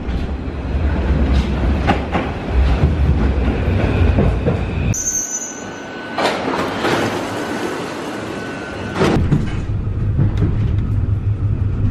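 A TGV train at Gare de Lyon station in Paris, heard as a loud, continuous rumble of rolling rail cars with clattering wheels, squealing brakes and a high whine partway through, with no voices.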